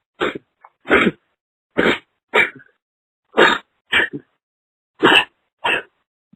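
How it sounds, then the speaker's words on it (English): A series of eight short, sharp bursts, evenly spaced with brief silences between them. They sound like repeated sneezes or stifled sneezing noises, close and fairly loud. "I'm going to sneeze."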